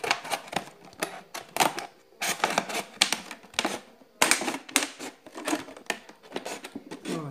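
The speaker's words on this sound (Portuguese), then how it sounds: "Vou cortar com a tesoura, porque o estilete tá ficando mais difícil." Scissors snip through a plastic bottle in a series of sharp, crisp cuts with short pauses between them, close and fairly loud with no talking.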